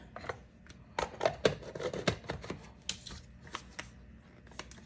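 Onions cut with a handheld kitchen chopping gadget, producing a string of close, sharp, irregular clacks and thumps with brief pauses between clusters, moderately loud and without speech.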